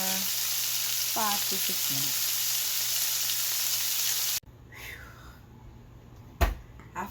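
Seasoned pork chops sauté in a pan over a little below medium heat, giving a close, steady sizzle beneath a spoken voice, then the frying drops away into quieter clatter and a sharp knock.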